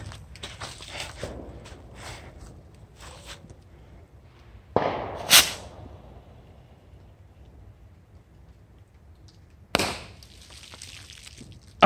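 A small firecracker buried in dirt with only its wick showing goes off in a sharp muffled thump and a spray of soil, followed later by a second burst, over steady outdoor rustling.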